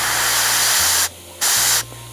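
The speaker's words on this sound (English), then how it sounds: "I'll sort of spray around that area." An airbrush sprays paint onto a miniature's jump pack engine in a steady close hiss that cuts off briefly twice, with a low compressor hum beneath.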